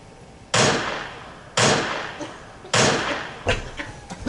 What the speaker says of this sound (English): three gunshots.